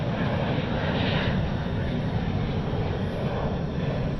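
An Embraer E170 jet in retro livery at DFW airport gives off a steady, broadband engine roar that holds fairly evenly throughout, heard from some distance.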